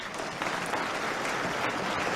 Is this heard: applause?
yes